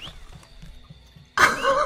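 A single horse's whinny bursts out loud and close after a stretch of quiet low background noise, ringing on to the end of the short moment.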